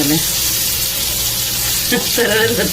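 Big prawns sizzle steadily in oil in a pan for kolambi fry, with a brief scraping turn as they are flipped near the end and faint voices in the background.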